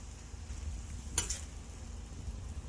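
Hamburger frying in a pan gives a steady low sizzle throughout, with one brief brighter crackle or scrape partway through and no talking.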